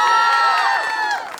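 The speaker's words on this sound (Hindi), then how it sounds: "प्रियंका जी के लिए जोरदार तालियां होनी चाहिए।" Crowd at a haldi celebration cheering and shouting for Priyanka, a loud burst of mixed voices and whoops with scattered claps that fades slightly toward the end.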